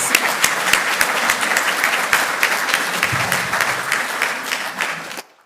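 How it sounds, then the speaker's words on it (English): Audience applause for a panelist at an anniversary homecoming celebration, full, continuous clapping with distinct sharp claps standing out, ending abruptly. "Let's give our first panelist a round of applause, and Tim, the microphone is yours."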